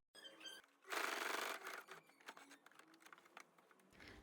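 Sewing machine stitching an overlapped seam on a summer dress, a short loud burst of fast needle chatter followed by lighter intermittent clicks and handling noise, close by.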